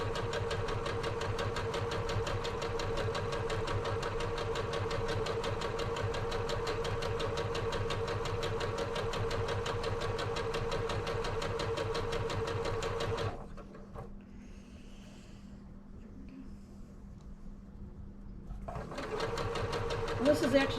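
A sewing machine runs steadily and close as fabric strips for a wall hanging are sewn together, then stops for a few seconds and starts again, with a voice talking over it.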